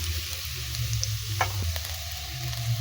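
Potatoes and onions fry in hot oil with a steady, close sizzle, broken by a few scrapes and clinks of stirring; no one speaks.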